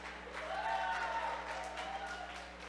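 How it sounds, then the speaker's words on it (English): Applause from an audience at a live performance showcase greets two performers, a steady wash of clapping held at moderate level for a few seconds, with a faint tonal hum underneath. "two incredible performers, super different, but super amazing. Round of applause"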